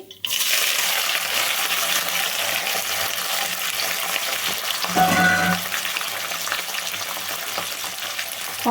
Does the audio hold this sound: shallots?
yes